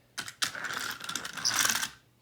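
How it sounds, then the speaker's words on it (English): Brake of the Mavis diesel engine: two quick clunks, then a sustained rattling, clicking squeal with bright hissing that swells and then cuts off, close and fairly loud. "When Mavis's brake just sounds like this."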